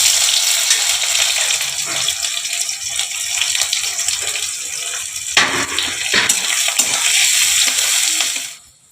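Chopped onions sizzle and hiss steadily in a hot pan with cumin, cardamom and cinnamon, spoon stirring and scraping now and then, loud and close, before the frying noise drops away abruptly at the end.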